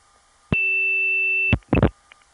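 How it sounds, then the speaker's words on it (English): A steady 2600 Hz tone sits on a long-distance telephone line for about a second, pure and loud against a quiet line, then cuts off, followed by a short burst of clicks and chirps from the switching equipment. "What you just heard was my putting on a 2600 Hz tone and then taking it off."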